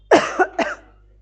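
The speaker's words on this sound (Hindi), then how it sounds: "अब मेरे खांसी आएगी" A woman teaching a class lets out a quick burst of three dry coughs, close and loud, then stops with no talking.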